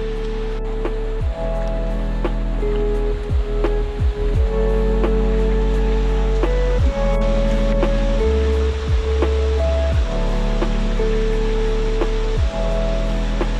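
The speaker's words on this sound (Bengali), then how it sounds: "আমাদের ঝর্ণা দেখা যাচ্ছে" A waterfall at Napittachora in Sitakunda, likely Bagbiani falls, swollen after rain, gives a constant broadband rush of falling water that stays loud and steady throughout, beneath a layer of music.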